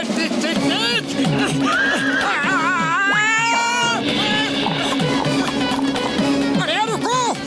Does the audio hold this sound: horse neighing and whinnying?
yes